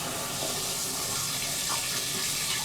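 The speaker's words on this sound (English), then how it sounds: "A full flush is that. Fills up all the way, and then boom," A Chinese smart bidet toilet does a full flush, a steady loud rush of draining and refilling water that runs close and continuous with no talking.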